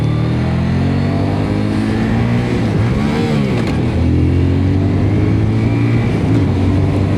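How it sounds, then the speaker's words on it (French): A Voge R625 twin-cylinder motorcycle engine revs and accelerates loudly up close, a steady throbbing drone that climbs in pitch, with no voices. "Là, on accélère un peu. Ah, le bicylindre, il marche bien"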